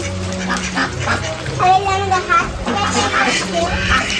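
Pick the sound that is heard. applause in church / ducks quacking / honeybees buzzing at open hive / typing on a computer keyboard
ducks quacking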